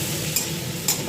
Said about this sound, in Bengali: একটু ভাজা ভাজা করে দিচ্ছি। এর মধ্যে টমেটো আর আদা দিয়ে দিয়েছি।